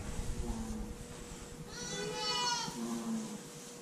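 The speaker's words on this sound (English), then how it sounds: "you can see these ewes, they'll run right up" Ewes and newborn lambs in a pen, a few bleats close by over a steady background hum, with a louder bleat in the middle.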